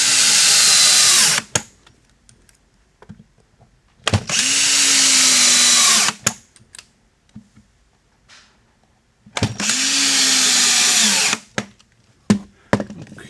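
Loud power drill drives 1 3/4-inch screws into plywood table slides in three long bursts, each slowing under load, with short clicks and handling noise in the pauses.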